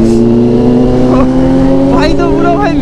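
A Kawasaki Z900 motorcycle makes a fast fly-by, its loud engine note rising and shifting in pitch as it passes close by, with wind noise throughout.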